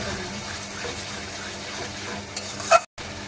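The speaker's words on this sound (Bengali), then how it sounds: "ভালো করে নাড়াচাড়া করতে হবে" Masala and mutton are stirred while frying in a pan for mutton kosha, a continuous sizzle with scraping stirs that briefly cuts out near the end.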